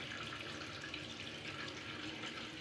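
Water from a home heating radiator being flushed drains out in a steady, even rush that stays close and unbroken throughout, with no voices.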